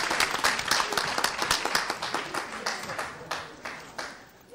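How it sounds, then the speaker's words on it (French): An audience in a television studio claps for two DJs, dense rhythmic applause that is strong at first and gradually thins into scattered individual claps, with a voice faintly heard underneath. "On va les applaudir très fort pour commencer."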